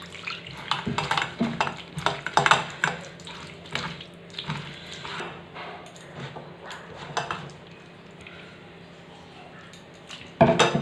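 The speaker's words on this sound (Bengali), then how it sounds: "এবার আমি এই কেওড়ার খোসা জল দিয়ে দিয়ে চটকে নেব।" Kewra (keora) fruit peel mashed by hand with water in a bowl, giving wet squelching and sloshing splashes in irregular bursts, close and moderately loud, easing off midway before a final louder splash.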